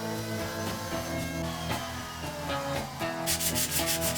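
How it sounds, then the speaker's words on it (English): Wood being sanded in a workshop, a steady rasping rub that continues throughout with regular strokes, loud and close, with no talk over it. "Do you wanna sand? Sawdust in the air."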